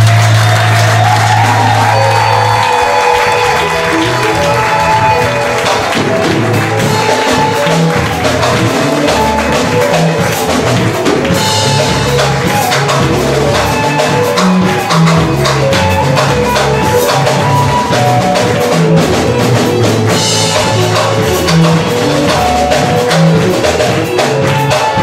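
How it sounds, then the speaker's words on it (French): A church congregation applauds and cheers loudly, with whoops and shouts, over driving live music with a heavy beat that carries on throughout. "Sous vos acclamations, bien."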